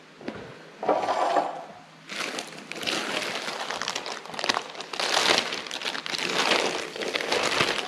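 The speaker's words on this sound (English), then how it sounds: "Let's dry our hands here." Hands drying with paper towel in a home kitchen: crinkly rubbing bursts, one short rub then steady crumpling and scrubbing that lasts several seconds, close and fairly loud.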